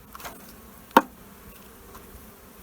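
Honey bees swarm around an open hive during a spring inspection, a steady low hum with one sharp tap partway through, close and moderately loud with no talk.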